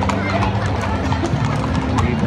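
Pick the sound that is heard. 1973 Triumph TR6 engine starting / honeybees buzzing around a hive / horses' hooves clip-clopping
horses' hooves clip-clopping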